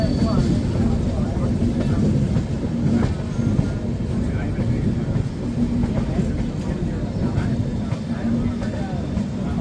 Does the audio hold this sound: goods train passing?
yes